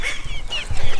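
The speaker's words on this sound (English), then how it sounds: "The chicken flies, so it shouldn't be too much of a problem to get her back inside." A chicken clucks and squawks close by in short, agitated bursts, with some low thumping or fluttering underneath.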